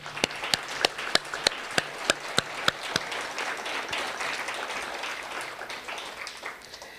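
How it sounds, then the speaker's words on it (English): Audience applause at a program completion ceremony, beginning with a few sharp, individual claps before settling into a steady, moderate wash of clapping that slowly fades. "Round of applause, that's you."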